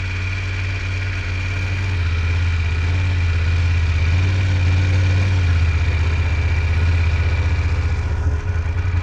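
Motorcycle engine running steadily at low speed during a slow-speed U-turn and serpentine riding exercise, a close, continuous low rumble with slight throttle swells and no pauses.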